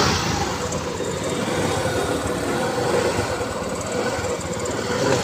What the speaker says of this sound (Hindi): देख पा रहे होंगे आप आवाज़ आ रहा होगा, आपकी गाड़ी स्टार्ट हो गया।